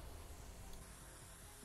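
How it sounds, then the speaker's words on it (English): A spray gun sprays coloured cocoa butter into bonbon molds, a steady broadband hiss held evenly for under two seconds, close and continuous with no voices. "I just dry the inside of the spray gun, fill with the next color, and spray until the next color is seen."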